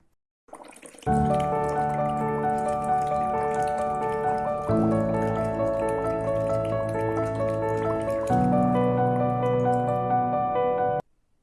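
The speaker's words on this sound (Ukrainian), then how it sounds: "Ми сьогодні навчимося з вами музикувати бульбашками." Water bubbled through a tube to make music for children: a steady, rich burbling drone with musical tones that shifts in three sections, close and fairly loud, with no talk.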